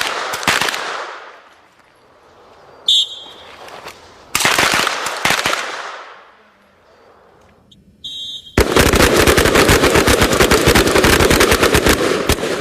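Submachine gun fire at a special forces shooting drill, loud close bursts separated by pauses, then a long sustained rapid volley of shots near the end.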